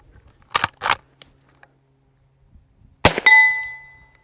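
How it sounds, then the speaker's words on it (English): A low-decibel .44 load fired from a Marlin 1894 lever-action rifle gives one sharp, fairly light crack followed by a lingering metallic ring. Two quick mechanical clicks come a few seconds earlier. "The report from the gun going off is similar to slamming a car door."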